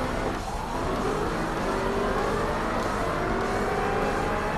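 Dodge Viper race car in Forza Motorsport launching at a race start among other Vipers, its engine revving hard and climbing in pitch, loud and continuous, without talk.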